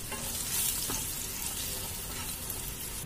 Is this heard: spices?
yes